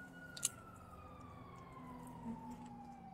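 A police car siren in a video game wails faintly in the distance as a steady, slowly falling tone under low background noise, with a brief click near the start.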